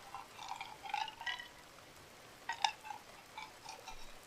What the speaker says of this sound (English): I'm gonna pour a little bit more Makgeolli into my drink